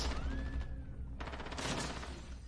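Loud, continuous weapon fire fills a short burst of Call of Duty: Modern Warfare (2019) gameplay, with rapid overlapping shots packed densely together.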